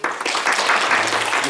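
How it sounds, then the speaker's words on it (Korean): Church congregation claps in welcome for newcomers at a Sunday service, a short burst of fairly close, lively applause that starts abruptly and stays even. "저희가 박수로 환영하겠습니다"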